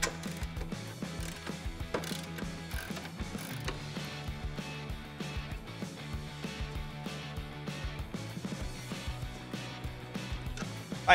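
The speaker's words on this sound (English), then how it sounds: "you're gonna be pulling these two 13mm bolts" Ratchet wrench with a 13mm socket backing out engine bay bolts on a 2013-2018 Ram 3.6L during a cold air intake install, giving repeated rapid clicking bursts at moderate level, fairly close, with no talking.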